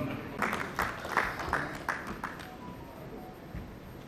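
Several people in a sugar, ethanol and bio-energy conference audience clap in a loose, steady rhythm for a couple of seconds. The clapping then fades into quiet room noise.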